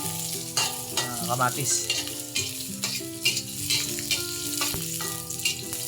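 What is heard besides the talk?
stirring pork with onions frying in a pan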